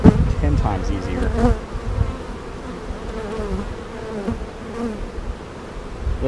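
Honey bees buzzing loudly and close during a full hive inspection in early May, a dense continuous drone with individual bees whining past.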